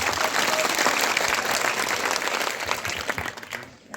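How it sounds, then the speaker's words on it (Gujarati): A crowd at a Thakor community gathering breaks into loud, sustained clapping that holds steady for several seconds before tapering off near the end. "પાડો બે હાથ ઊંચા રાખીને ઠાકોર સમાજ માટે તાળીઓ એકવાર."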